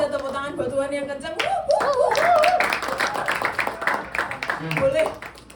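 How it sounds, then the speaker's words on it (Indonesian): A church congregation at a youth worship service claps their hands over a lively mix of voices, a loud, dense run of rhythmic claps that swells and then fades, with a voice speaking at the start. "Sekali lagi kita tepuk tangan buat Tuhan yang kencang."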